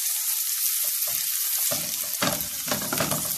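Garlic sizzles and fries steadily in a pan, a loud continuous crackle with brief stirring scrapes and no talk.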